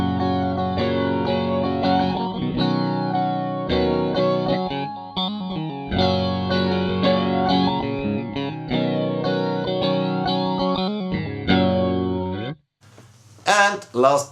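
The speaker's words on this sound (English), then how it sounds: "I tried to get a chorusy flanging sound out of this." An electric guitar through a MOOER Black Truck multi-effects pedal with a chorus-like flanger setting plays chords and riffs alone, the tone sweeping and shimmering with a slightly distorted edge, before breaking off into a few brief fragments.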